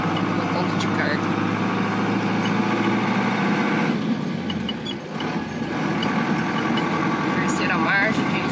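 A Ford F-4000 truck with an MWM diesel engine rolls downhill in third gear on a potholed road, its engine droning steadily with rattles and clunks, while someone talks over it.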